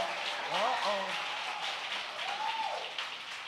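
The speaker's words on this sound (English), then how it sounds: "Can we clap for the Trotter family?" A church congregation claps for a family, steady hands-together applause filling the room throughout, with a voice rising over it briefly.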